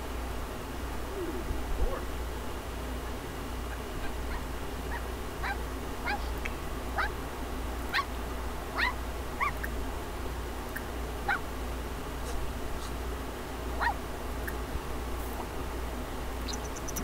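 A puppy in The Sims 4 video game whimpers and yips in short, scattered high cries over a steady low background hum.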